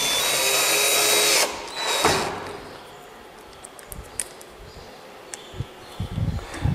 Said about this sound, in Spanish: Y ahora ya fijamos la cerradura con los dos tornillos.